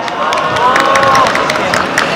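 A crowd at an Incheon citizens' candlelight rally cheers and claps on cue, a steady wash of shouts and applause, with whistle-like calls rising over it, close and loud throughout.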